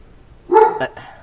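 A pet dog barks in a home, two or three sharp barks bunched close together, then a fainter bark trailing after, loud and near against a quiet room.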